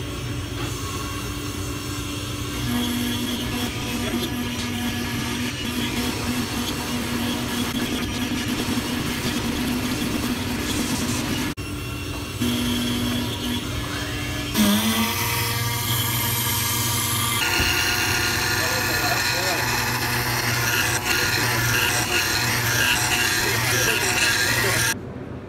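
A CNC machine routing letter slots and rectangles into a wooden block, a steady loud droning whir with sustained tonal hum, shifting in pitch partway through as the cut path continues.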